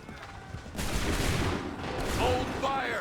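Musket volley fire erupts in Assassin's Creed 3, a sustained crackling roar of massed shots that swells and holds, with shouted orders over it and brief high tones near the end.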